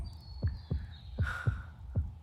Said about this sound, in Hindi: तेरी धड़कन इतनी तेज क्यों चल रही है?